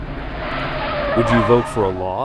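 A car's tyres skid and squeal on asphalt, a loud, sustained screech with rising and falling pitch, heard close over a background of voices and traffic noise.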